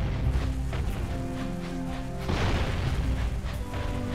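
A bomb explodes in the Jak and Daxter video game, a loud boom bursting out over game music and ambience partway through, with smaller thumps around it.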